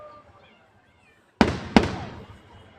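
Victory Day fireworks over Kaliningrad, two sharp loud bursts in quick succession that crackle and fade after a quiet moment.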